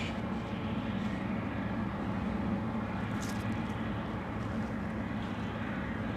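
A heavy airliner of roughly 800,000 pounds spools its jet engines up to takeoff thrust at Anchorage, a steady, loud, broadband roar that holds constant throughout.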